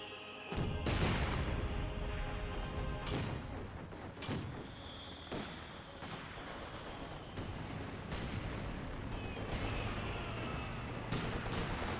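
Dense gunfire from a Company of Heroes 2 battle suppressing a conscript squad, with sharp bursts and booms overlapping a constant rumble of combat throughout.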